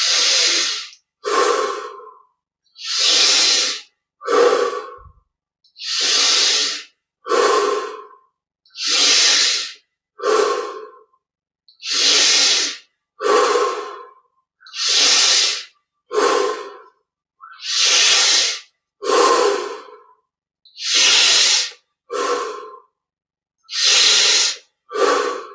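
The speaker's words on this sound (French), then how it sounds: "Inspire par le nez, expire par la bouche." Slow, even breathing during a yoga and meditation practice, in through the nose and out through the mouth, each breath a clear airy hiss repeating in a steady rhythm, close and alone with no talking.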